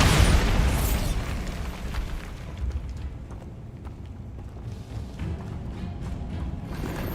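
A Bombarda blasting spell goes off in Hogwarts Legacy: one loud, close burst opens the moment, then fades into a long, low rumbling tail with faint crackles.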